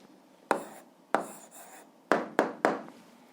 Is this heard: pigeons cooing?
no